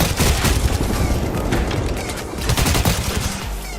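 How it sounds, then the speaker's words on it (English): Grenade blast amid dense gunfire in the Apex Legends battle royale game, a loud continuous barrage of overlapping shots and booms throughout, with bursts intensifying near the end. "Got hit by a nade there."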